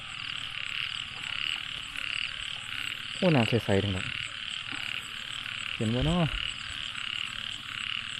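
Frogs croak in water after heavy rain in the countryside, two short rattling bursts rising over a steady chorus of frogs and insects, while someone talks now and then.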